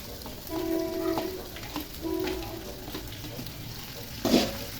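Cardamom, cinnamon and bay leaves frying in oil for chicken biryani, a soft steady sizzle with light stirring scrapes, fairly faint and close, no talk.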